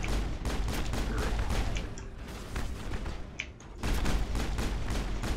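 Rapid gunfire in the Mass Effect video game crackles in dense, repeated bursts of shots, loud and close, with a brief lull midway before the shooting resumes.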